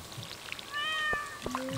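A cartoon house cat meows in Stardew Valley, one drawn-out rising and falling mew under soft background game music, fairly quiet and alone without talk.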